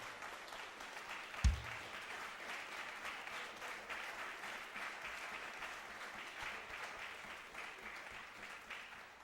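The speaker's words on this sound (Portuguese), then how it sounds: "Ele merece os nossos aplausos" A church congregation applauds after an evening sermon, sustained dense clapping from many hands filling the room, with one sharp thump near the start and no voices over it.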